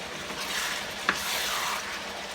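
Curry chicken being stirred in a pot with the meat juices added, a steady soft sizzle with a single spoon scrape partway through.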